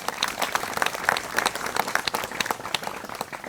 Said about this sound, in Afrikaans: Kom ons geef hom 'n lekker hande klap aan,